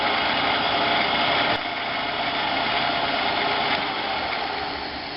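A machine running at about 700 RPM while cutting brass, giving a steady, loud, broadband whirring drone that holds evenly throughout with no talking.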